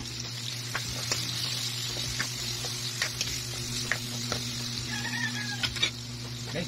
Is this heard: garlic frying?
yes